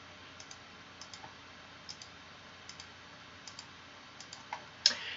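A computer mouse clicks in dental aligner software, giving sharp, quiet clicks in pairs at a fairly regular pace against a soft room hiss, with a slightly louder click near the end.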